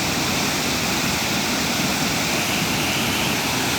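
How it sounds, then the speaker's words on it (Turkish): A mountain creek beside Bursa's Panorama Museum rushes loudly, swollen with snowmelt and rainwater, as a continuous roaring torrent close by with no talking. "Burası şöyle Panorama Müzesi'nin orada bu dere dediğim yer."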